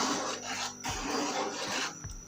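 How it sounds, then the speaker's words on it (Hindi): Chicken malai boti is stirred in a pan over high heat, giving scraping and rasping strokes with sizzle between them, close and moderately loud, with no talking. "हमने मुसलसल 10 से 12 मिनट तक ना तेज़ आंच पे इसको चलाते रहना है"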